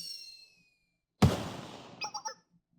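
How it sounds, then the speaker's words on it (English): Fireworks at the Moonlight Festival in Blue Archive, a single sudden bang that fades into a crackling tail, followed by a few short bright pops, heard alone after a faint tonal chime. "Ah, the fireworks."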